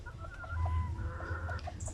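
A chicken clucks close by in a short series of soft, repeated calls over a low background hum.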